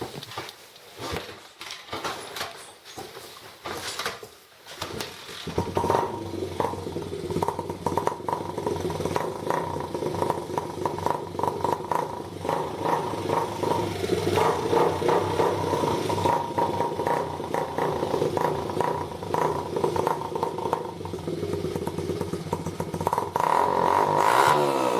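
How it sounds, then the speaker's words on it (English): A dirt bike fitted with a homemade exhaust of PVC pipe, screws and duct tape cranks over with clattering, then catches and runs rough and loud, revving unevenly for about twenty seconds. "I got a custom exhaust. All it is a PVC pipe, screws, and some duct tape. We'll go ahead and start that up."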